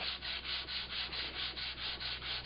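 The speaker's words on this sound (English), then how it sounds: "So I've gone to 120 grit and I'm sanding away." Steady hand sanding with 120-grit abrasive paper, a rhythmic back-and-forth scratching in even strokes, close and continuous.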